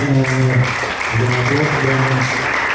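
Audience applause at a church seminar for altar servers, a steady wash of many hands clapping indoors with a sustained musical tone and faint voices underneath, lasting a few seconds.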